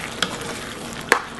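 Black bean sauce stirred in a pan, thickening with water and sugar, with two brief utensil scrapes against the pan over a quiet, faint background.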